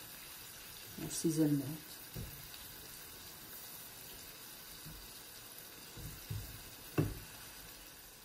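Water poured into a pot of onion and parsley cooking on the stove, a quiet hiss and sizzle of liquid against the hot pan, with a person speaking briefly over it.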